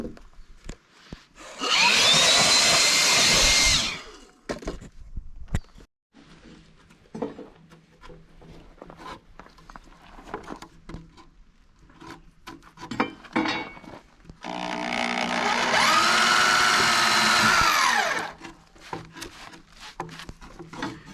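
Power drill boring into timber frame posts and beams for a shed, two loud sustained bursts of a couple of seconds each separated by quieter handling noises and knocks.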